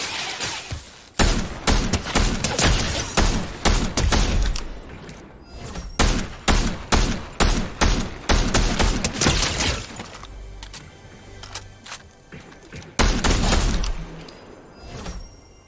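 Rapid bursts of gunfire from a shooter video game crack loudly in quick repeated volleys, broken by brief pauses and a few heavy thumps, with no talking over them.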